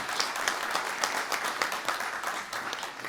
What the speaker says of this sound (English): Let's give them once again a round of applause.